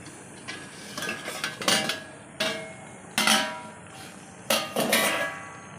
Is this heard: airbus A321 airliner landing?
no